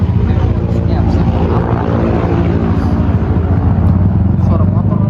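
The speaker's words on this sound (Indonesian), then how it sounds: "Suara motor." A motorcycle engine runs loud and steady throughout, a continuous low rumble with constant throb and no pauses, heard close by.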